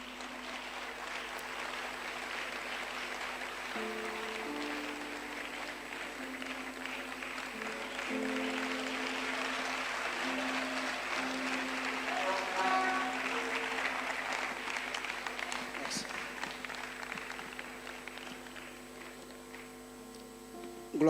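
Congregation at a church gathering applauds the pastor, a steady broadband wash of clapping lasting throughout with sustained musical tones beneath, moderately loud and continuous.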